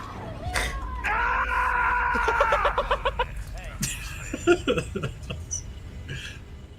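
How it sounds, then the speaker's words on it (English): A Shadow the Hedgehog scream soundbite played as a short comic clip, a shrill, strained vocal cry with sputtering, choppy bursts, followed by fragmented squeaky voice sounds; fairly close and clear. "When I first got that soundbite, it was just the, like, shadow hog scream."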